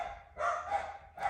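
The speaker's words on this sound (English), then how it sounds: "Sorry about my dogs. Let me go tell them to shut up." Dogs bark indoors from a room away, two short bursts of barking separated by a brief pause, fairly faint and without talk.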